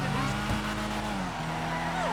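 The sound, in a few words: car tires squealing while understeering, Karin Everon RS in video game GTA V Online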